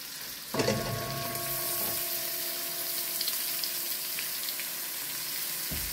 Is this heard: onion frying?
yes